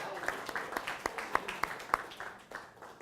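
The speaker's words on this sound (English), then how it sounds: "Let's give a warm round of applause for KT Sullivan." Quiet applause from a small audience welcoming KT Sullivan at a high school NAC event, with brief scattered claps forming a soft, uneven patter that fades over a few seconds.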